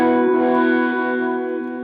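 An electric guitar runs through a professional pedalboard set to chorus with a little delay and reverb, so a sustained shimmering chord rings out loud and close, then slowly fades.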